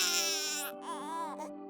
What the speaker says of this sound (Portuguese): o choro de uma criança,